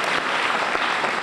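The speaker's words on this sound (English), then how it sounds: "Let us give our Human Resources Office a round of applause" A seminar audience gives a steady round of applause after a Human Resources presentation on fringe benefits, a dense wash of clapping at moderate volume with no talk.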